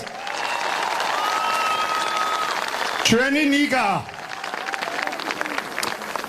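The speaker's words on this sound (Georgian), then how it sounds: "კიდევ ერთხელ ტაში ნიკამელიას" A crowd at a political rally in Zugdidi claps loudly and steadily for Nika Melia, while a voice speaks briefly over the applause.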